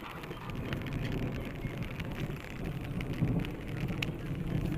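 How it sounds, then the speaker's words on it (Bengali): Steady rain falls on surfaces during a thunderstorm in a village, a dense even hiss with low rumbling underneath and scattered sharp drop hits, fairly distant and moderate in level. "দেখো কিভাবে বজ্রপাত হচ্ছে।"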